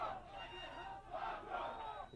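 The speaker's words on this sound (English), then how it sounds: "The fans are cheering their warrior on" Fight crowd at the 1997 World Vale Tudo Championship roars and cheers a fighter on, a steady, loud wall of voices with rising surges of shouting.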